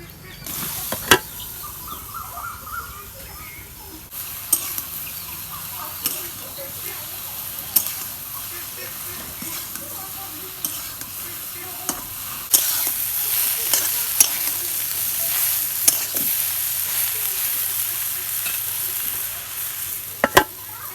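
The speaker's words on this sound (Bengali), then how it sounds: "এখন আমি তরকারি সম্বাদ দিব" Pangas fish curry being seasoned and stirred in a pan, with steady close frying sizzle and intermittent scraping of a spoon against the pan, plus faint birdsong and insects outdoors.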